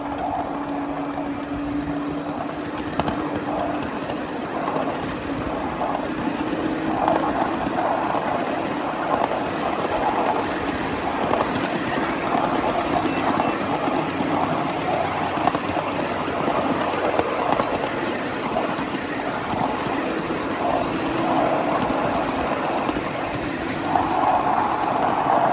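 A 7.5-inch gauge miniature train hauling a flat/tank car rolls steadily along a mainline track, with a continuous rumble of wheels on rails and faint rhythmic clicks from close by throughout.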